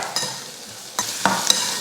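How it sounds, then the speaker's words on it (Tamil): Steady sizzling of onions and green chillies sautéing in a hot pan, with occasional scraping stirs, close and continuous. "இப்போ இதெல்லாம் நல்லா வதக்கிக்கலாம்."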